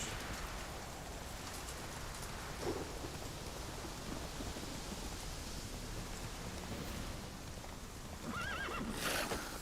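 Roach, a horse in The Witcher video game, neighs within a stormy game soundscape of steady rain and thunder. A clip-clop of hooves joins in, and a sharp whinny stands out near the end.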